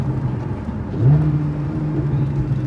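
A Porsche 911 fitted with Fabspeed headers and a sport exhaust accelerates nearby, its steady low exhaust drone swelling into a louder, rising engine note partway through.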